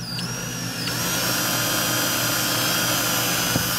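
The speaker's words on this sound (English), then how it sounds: "drill my pilot hole" A power drill whines steadily as it bores a pilot hole while a Torqeedo Ultralight 403A motor mount is installed on a NuCanoe Frontier 12 kayak, close and continuous, with no talking.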